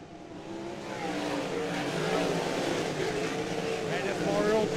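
Several winged sprint car engines at Charleston Speedway roar together as the race starts, a loud, rising multi-engine drone with wavering pitch under a commentator's voice.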